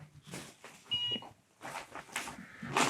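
A small electronic device gives a brief, faint beep among soft room noises and rustling, with a sharper tonal chirp near the end.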